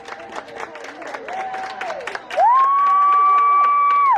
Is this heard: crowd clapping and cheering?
yes